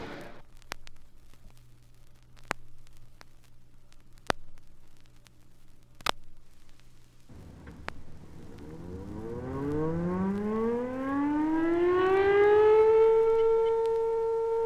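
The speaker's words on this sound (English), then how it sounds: "Lackland's 7:30 work siren begins the duty day for the base personnel" Lackland Air Force Base's 7:30 work siren winds up from silence after a few scattered clicks, rising steadily in pitch to a loud, sustained wail that holds near the end with no one talking.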